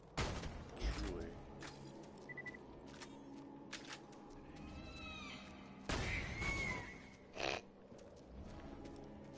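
Gunshots ring out in the video game Burgerland 2: a few sharp, loud bursts spaced several seconds apart over a quieter, busy background, with occasional short chirps between them.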